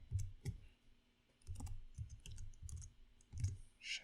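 Typing on a computer keyboard while writing CSS for a Twine story passage, close soft clicking keystrokes in short irregular bursts with a brief pause, no talking.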